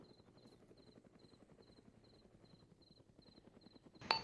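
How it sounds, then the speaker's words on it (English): Military video game helicopter heard as a steady low rotor thump with a regular high pulsing beep, faint and distant, ending in a sudden brief sharp sound. "Helicopter to our north."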